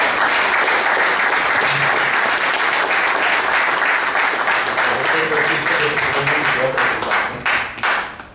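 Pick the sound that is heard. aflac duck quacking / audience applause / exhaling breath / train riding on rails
audience applause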